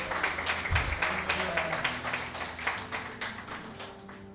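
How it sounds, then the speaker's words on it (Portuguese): A church congregation applauds, with steady rhythmic clapping throughout, dense and moderately loud in a reverberant room, plus faint background voices. "Dá uma salva de palmas para o Senhor"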